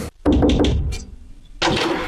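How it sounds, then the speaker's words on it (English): A devil-head door knocker rapping on a front door, a series of loud, close, heavy knocks in a quick run, then a pause and another burst of knocking. "The bruiser used a devil head knocker and rapped on the door."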